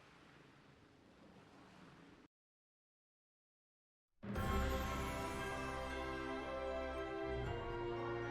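Open-water waves in the video game Bravely Default: a soft wash of sea noise, then a short silence, then a loud, full rolling surge of waves and wind with a layered orchestral-like tonal swell.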